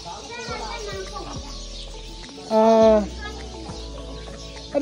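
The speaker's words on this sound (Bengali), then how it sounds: "প্রতিটা বাড়িতে এরকম মুরগি আছে, দেশি মুরগি।" Native village chickens cluck in a rural Marma village yard, a loud nearby squawk rising briefly amid other clucks, with children's voices and talk in the background.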